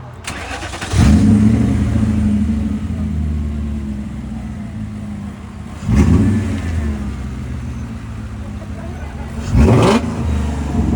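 An S62-swapped BMW E34 540i M Sport starts and revs hard three times with its exhaust valves working, each loud rise in engine note settling back to a rumbling idle between bursts.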